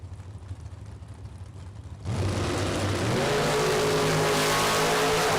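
A drag racing Camaro launches down the strip, its engine bursting from a low idle into a loud, sustained roar that climbs in pitch as it accelerates away, with no talk.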